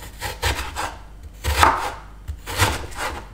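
A knife slices a cored pear on a wooden board, a series of crisp cuts and soft scraping strokes in an irregular rhythm, close and clear with no talking.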